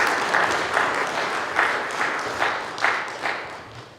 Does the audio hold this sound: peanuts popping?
no